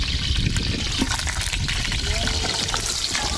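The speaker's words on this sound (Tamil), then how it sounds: "வெங்காய ரம்பாவையும் பச்சை மிளகாயும் வதக்குகிறார்." Onion, rampe leaves and green chillies sizzle and hiss steadily in hot oil and ghee, a dense continuous frying crackle with a voice talking over it.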